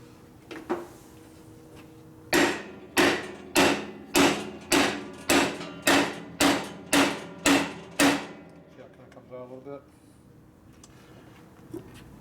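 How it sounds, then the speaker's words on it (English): Eleven sharp, evenly spaced hammer strikes ring out on metal, loud and close, beating out a tight part during a 1961 Harley-Davidson FL 74ci panhead engine rebuild, with a brief rattle and faint background noise afterward. "the other thing you try is you try beating out with a hammer."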